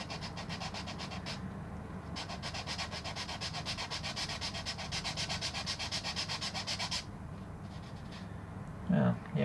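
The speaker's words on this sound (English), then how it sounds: "sanding this stuff down. Here's a metal file," A metal jewelry file rasping back and forth over hardened CA glue, rapid rhythmic scraping strokes in a long run after a short first burst, close and fairly quiet, with a voice briefly at the end.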